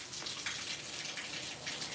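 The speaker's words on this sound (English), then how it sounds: "I mean, it came pouring down suddenly." Rain pouring down in a garden, a soft continuous patter and splash of water at low volume with no voices.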